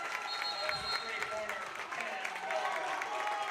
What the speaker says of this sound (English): The crowd's into it.